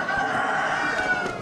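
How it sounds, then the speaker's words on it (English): A rooster crows at an Amish animal auction, a loud, sustained call close by over a busy, noisy background. "More cool roosters"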